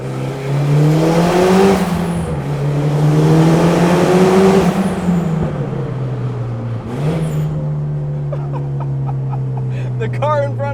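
Turbocharged Mitsubishi Eclipse GSX engine, a 440 hp conversion, pulling hard inside a road tunnel, its loud droning note climbing through gears with shift dips and echoing off the walls, plus a sharp high whistle near the end.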